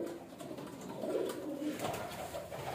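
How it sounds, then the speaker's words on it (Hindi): Pigeons coo softly nearby, low rolling calls rising and falling in a couple of bursts over faint background noise. "और ये है अब आखिरी चौथा कबूतर, ये भी अभी चला जाएगा।"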